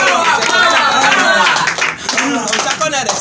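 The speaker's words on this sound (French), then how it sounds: "Applaudissez tous." Audience clapping in a church gathering, a dense patter of many hands sustained for a few seconds over loud overlapping speech and voices.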